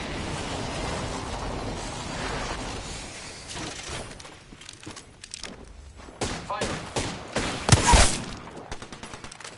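Rapid bursts of gunfire in the Apex Legends battle royale game, with scattered shots building into a loud close volley near the end, mixed with game effects and faint voices in the background.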